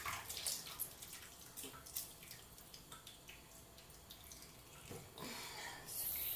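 Water runs from a tap as hands are washed, faint splashing and trickling with irregular spatters, heard alone.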